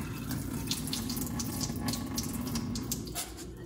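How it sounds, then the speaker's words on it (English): Tap water pours steadily into a sink as rice is rinsed, a continuous close splashing stream with no pauses. "Final rinse, and then the final water for cooking."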